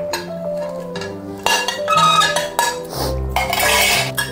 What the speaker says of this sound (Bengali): এখন আমি একে একে মাছগুলো দিয়ে দিচ্ছি ঝোলে।